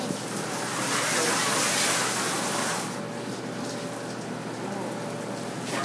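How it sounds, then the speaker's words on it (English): A hose sprays water onto an ice sculpture to wash off the snow left from carving. The spray gives a broad, close hiss that is loudest early and then settles into a steadier, softer rush. "I always hose them off because I want to get rid of the snow"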